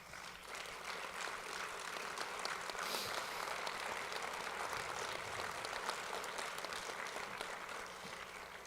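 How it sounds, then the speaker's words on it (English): An audience at a town hall meeting claps in a sustained round that fills the hall, quiet overall but steady and even throughout. "I would like for them to stand so we can give them a round of applause."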